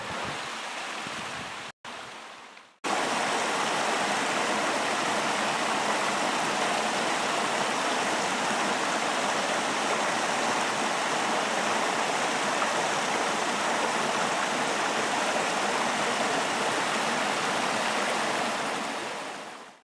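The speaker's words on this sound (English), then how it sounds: "Waterfalls." Waterfalls along the Crispus Trail's hidden falls: after a brief dip, a steady, full rushing of falling water carries on evenly and continuously, with no voices.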